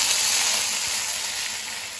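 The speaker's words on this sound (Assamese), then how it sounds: "এনেদৰে হালধি দিয়াৰ পাছত পেষ্টটো এনেদৰে অলপ সময় ভাজি থাকিব" Onion, ginger and garlic paste with turmeric fries in hot oil, giving a steady, dense, close sizzle that runs unbroken, with faint stirring underneath.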